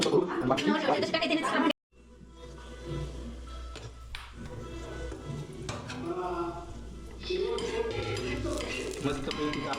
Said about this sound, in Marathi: आता कांदा आणि टमाटर भाजून घ्यायचं मस्त पैकी